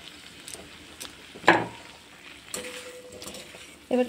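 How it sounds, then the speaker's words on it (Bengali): Metal spatula stirring spiced potato and cauliflower in a pan, with soft scraping and a faint sizzle, broken by a few sharp clinks and scrapes against the pan, close and without talk. "এবার খুন্তি দিয়ে একটু নাড়াচাড়া করে নেব।"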